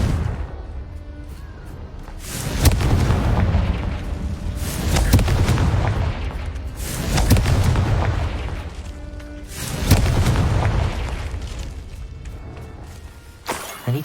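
Confringo fire spells exploding in the game Hogwarts Legacy: four loud, deep booms with crackling bursts, coming roughly every two to three seconds over a rumbling background.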